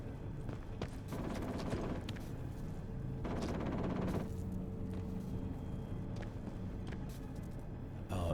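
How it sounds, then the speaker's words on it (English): Gunfire in the video game Atomfall, a dense run of sharp shots and bursts under a constant low game rumble, with clusters of rapid reports coming in waves across the stretch. "That sounds like gunfire."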